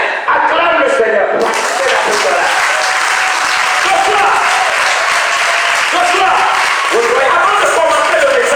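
Church congregation at a sermon applauding and cheering, a dense, loud, sustained wash of clapping with voices mixed in throughout.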